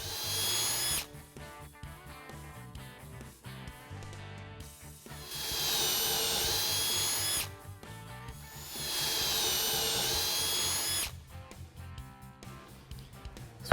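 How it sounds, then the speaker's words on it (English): A power drill whirs loudly in two long bursts, boring into wood, with pauses of clattering and handling noises between them. "we'll drill some holes along this edge"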